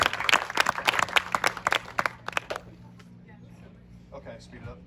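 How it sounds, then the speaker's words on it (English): A round of applause for the coaches at an end-of-season youth sports banquet, a few hands clapping close by for about two and a half seconds before dying away into room noise. "please give the coaches another round of applause"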